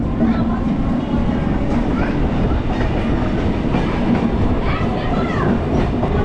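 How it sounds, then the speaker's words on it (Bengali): A Kolkata–Jogbani Express train rumbles steadily along after leaving Naihati, with rhythmic clickety-clack of wheels on rails, loud and close, with faint voices in the carriage beneath the din. "10:37-এ আমাদের ট্রেন আবার নৈহাটি থেকে ছেড়ে দিল।"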